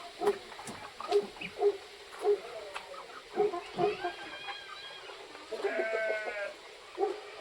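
Chickens cluck and call in short repeated bursts at a hillside homestay farm, moderately near, with other farm animal sounds and faint background voices.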